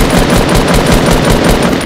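Rapid automatic gunfire in Fortnite Battle Royale, a loud, dense stream of shots firing continuously without pause and close to the listener.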